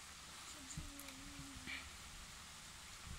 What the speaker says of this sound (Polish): nie widzisz, że za budą pada?